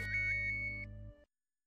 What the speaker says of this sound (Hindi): उसी का फोन है। अरे उठाइए फोन